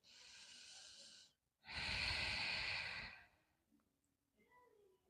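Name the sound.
yoga breathing in downward-facing dog pose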